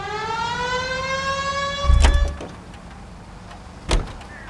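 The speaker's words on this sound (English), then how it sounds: "Turn on the siren and pull her over." A police car siren in the 1940s Los Angeles detective video game L.A. Noire winds up in a rising wail, then cuts off, followed by two sharp thuds like car door sounds.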